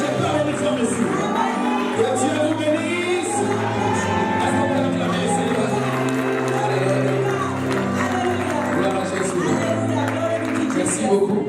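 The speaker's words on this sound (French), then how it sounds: "Quand il avance, on acclame très fort." A church congregation cheers and acclaims a special guest in Atlanta, a loud sustained crowd roar of shouting, cheering and scattered clapping, with a voice speaking over the noise.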